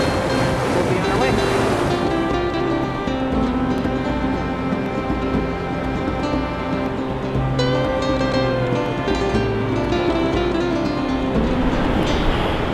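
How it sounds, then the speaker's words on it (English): River rapids rushing alongside a portage trail on the way into Lac LaCroix, a loud, steady roar of churning water that fills the whole stretch, close by and continuous, with a few faint indistinct voices underneath. "It was really fun hearing the water rush down beside us."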